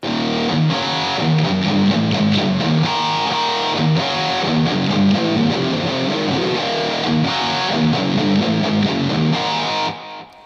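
A heavily distorted electric guitar plays a repeating chugging riff in 7/4, loud and continuous, then stops abruptly at the end.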